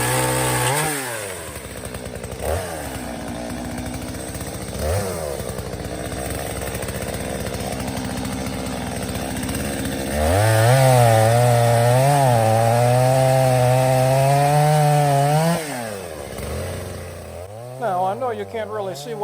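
A chainsaw bucks Osage orange firewood. The engine drones steadily, then surges into a loud, sustained high-revving cut for several seconds before dropping back to a rougher idle with a few sputters.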